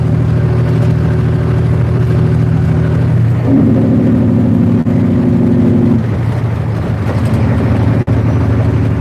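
A big truck's engine drones steadily from inside a closed cab in heavy traffic, with harmonic tones rising and shifting as it speeds up, loud and continuous with no talking.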